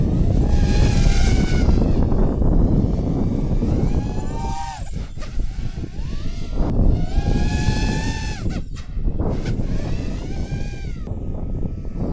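A small quadcopter drone built on a cheap AliExpress frame flies at a test range, its motors whining loud and steady, rising and dipping in pitch with throttle changes, with wind buffeting the microphone.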